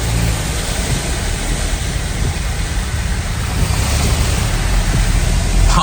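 A car ploughs through a deep water puddle outside a modification workshop, a loud continuous rushing splash and roar with wind buffeting the microphone, no talk.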